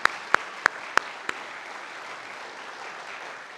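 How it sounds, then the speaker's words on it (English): Several sharp, close individual claps ring out first, then a broad, even round of audience applause carries on at an alumni awards ceremony. "One more round of applause."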